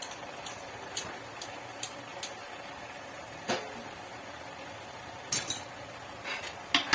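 A metal spoon stirs chicken masala with onion and tomato in a pan, giving sparse clinks and scrapes spaced irregularly over several seconds, with a few quick double taps near the end, fairly quiet and close.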